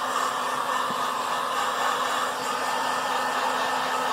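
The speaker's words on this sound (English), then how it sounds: "So basically, I'm just heating it up, both sides." A heat gun blows steadily as it heats both sides of EVA foam for a cosplay chest plate, a constant loud, close whooshing hum with no break and no talking.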